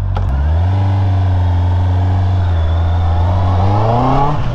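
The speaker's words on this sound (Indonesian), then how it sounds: "memang bunyi inline 4 betul-betul lah" A 2023 Honda CB650R inline-four motorcycle engine idles with a smooth, high-pitched hum, then revs up sharply near the end; loud and close, no talking.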